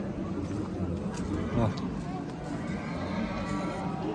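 At an outdoor horse market a horse whinnies once, mid-clip, above steady crowd noise, with faint hoof clops and people talking nearby.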